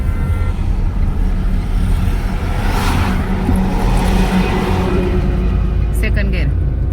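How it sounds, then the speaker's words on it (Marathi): A car engine drones loudly and steadily in second gear during a driving lesson, a constant low rumble with a brief swell in the middle and faint clicks near the end. "second gear, clutch half, accelerator सोडायचा"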